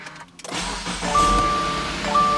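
A 2017 Subaru Outback engine starts after an oil change: a brief cranking whir catches into a steady, close idle, with a thin chime tone sounding twice over the running engine.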